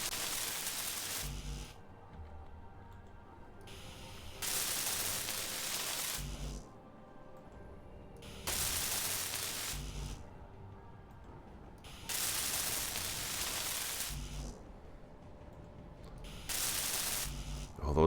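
Welding in the Space Engineers video game: bursts of loud hissing, crackling static several seconds long, repeating in a steady on-off pattern, with quieter stretches between.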